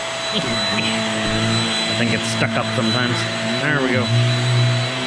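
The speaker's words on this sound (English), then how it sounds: "How many of you guys vacuum your couches?" A vacuum cleaner runs over washable couch covers, a steady loud whine with shifting pitch as the nozzle drags and catches, while a person talks over it.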